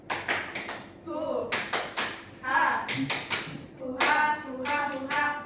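Several people clap together in quick rhythmic bursts, a patterned group clap repeated across the clip with brief pauses, with voices in the background.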